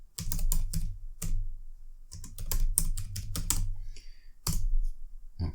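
Quick bursts of typing on a computer keyboard entering a web search, crisp close key clicks in short runs with brief pauses between them.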